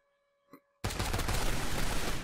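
A brief tone, then loud, close shotgun fire in the stealth VR shooter Dark Storm VR Missions, erupting suddenly into a dense, sustained burst of blasts that continues to the end.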